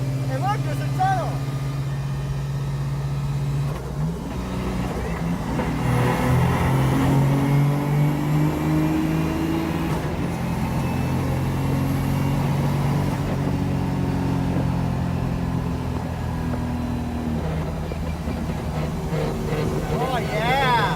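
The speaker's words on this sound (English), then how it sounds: "the diff noise was pretty ridiculous" A loud, steady mechanical whine from a 1JZ-swapped FC RX-7's differential rises and falls with road and engine rumble at highway speed.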